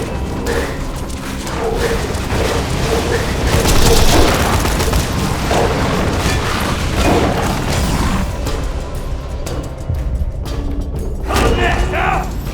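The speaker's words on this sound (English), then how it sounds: "Tossing grenade!" A grenade explosion in the shooter Borderlands 2, a loud booming blast amid heavy gunfire and crashing thuds, followed by more firing and a brief lull.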